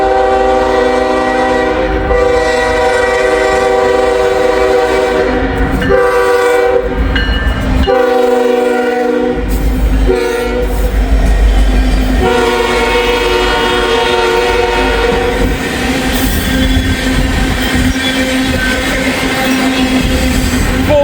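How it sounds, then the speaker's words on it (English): A Norfolk Southern coal train rolls past loudly and close, its horn sounding in long sustained blasts over the continuous rumble and clatter of the cars. "Coal train, Norfolk Southern."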